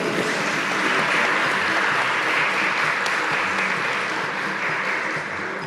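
Audience applause for Filipe Zau at a semba panel session, steady dense clapping from a crowd filling the room, sustained throughout and easing slightly at the end.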